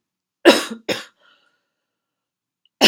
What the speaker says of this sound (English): I had to cough a little